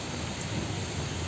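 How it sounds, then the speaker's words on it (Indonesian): Rain falls outdoors in a steady, dense hiss with no breaks, fairly loud and close, with no voices. "Ada hujan ya."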